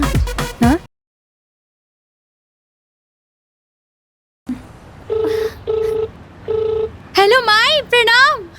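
A telephone is dialed with a short run of clear keypad beeps, then rings with a loud, warbling trilling tone in bursts. A brief voice is heard at the start.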